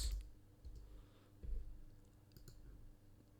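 Keys are tapped on a computer keyboard in a few scattered, soft clicks, with low thumps and a quiet room hum underneath.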